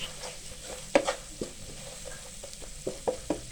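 Salt and ajwain seeds roasting in a pan for samosa filling, heard as a soft, faint sizzle with intermittent scraping and tapping from a spoon being stirred through the spices.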